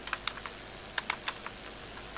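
Rapid keystrokes on a computer keyboard while entering data into an Excel spreadsheet, a quiet run of irregular clicks with a couple of louder taps, no voices.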